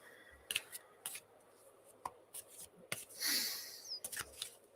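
Quiet, close tarot cards are shuffled in a scattered series of crisp flicks and taps, one longer riffle swelling near the end.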